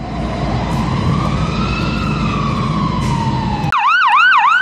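Fire truck siren wailing continuously while the truck responds to a call, a long rising and falling tone that switches abruptly near the end to a fast, loud yelp cycle over heavy engine and road rumble.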